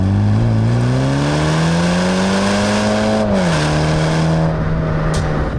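MINI John Cooper Works F56 with automatic gearbox pulling hard through the gears, its engine note rising steadily and loud up close, then dropping briefly at a shift before droning on.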